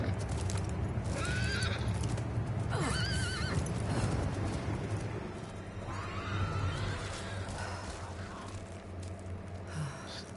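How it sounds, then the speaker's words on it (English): Horse in a video game neighs and whinnies loudly, several drawn-out calls over steady clip-clopping hooves and a dense, constant game background. "Goddamn horse."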